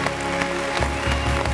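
A crowd cheers and applauds at a lively show, a brief wash of clapping heard under a steady musical hum with a few thuds.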